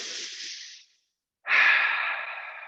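Slow, close breathing during a yoga pose: a long airy exhale, a brief silent pause, then a deep, strong inhale that gradually fades.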